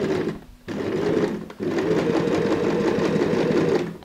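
A sewing machine runs steadily, stitching along the edge of a tote bag, its motor whirring in a continuous hum with a brief pause near the start before resuming for the rest of the stretch.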